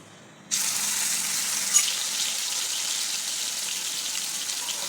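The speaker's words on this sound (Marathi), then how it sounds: "खलबत्त्यातच मी आलं मिरची आणि लसूण बारीक करून घेतला तर तो टाकते" Ginger, chili and garlic paste drops into hot oil with cumin in a kadai, bursting into a loud, steady, hissing sizzle that stays constant after a sudden start.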